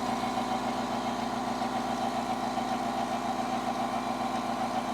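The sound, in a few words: air compressor running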